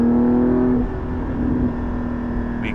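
A Porsche 718 GT4 engine holds a steady, loud rev near 4,500 RPM, its exhaust droning with a strong tonal hum that drops slightly after a moment, heard from inside the car.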